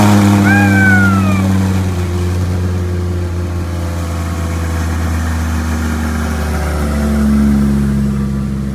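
An Audi R8 engine, just reinstalled, idles steadily and loud after starting, a deep low rumble that holds even throughout with a brief rise near the end; no talk over it.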